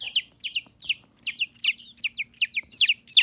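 Young chickens peep in a quick series of about a dozen bright, downward-sliding calls, close and clear over a faint low hum.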